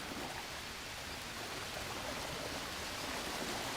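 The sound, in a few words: waterfall in the video game Green Hell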